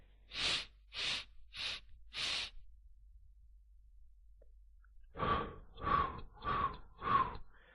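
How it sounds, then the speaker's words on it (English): Four slow, breathy nasal inhales, evenly spaced and close, then a pause, then four audible exhales through the mouth in the same steady rhythm during a paced breathing exercise, with no talking. "I'm breathing in through my nose, holding it for 4 counts, and then breathing out my mouth."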